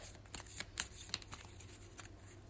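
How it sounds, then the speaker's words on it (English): Tarot cards are shuffled by hand close up, a quiet run of soft riffling flicks and taps repeating irregularly for a couple of seconds. "I'm gonna shuffle the cards and then I'm gonna pull 3 cards as always"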